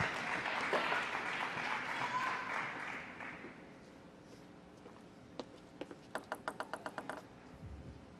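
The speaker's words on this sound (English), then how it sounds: "Maverick Arena applauds." An arena crowd applauds a point in a women's table tennis semifinal, loud at first and fading after a few seconds. A quick series of sharp ball taps follows.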